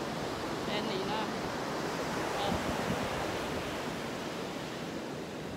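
Sea waves wash onto a beach on a clear day in a steady, broad rush of surf with wind noise, continuous and fairly loud, while faint voices come through at moments.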